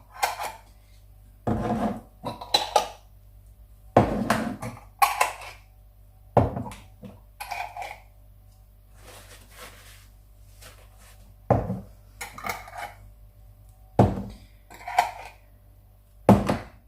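Glass canning jars and their metal lids being handled and screwed down for pressure canning beef stew, a series of separate clinks, taps and scraping twists spaced every second or two, close by and fairly quiet.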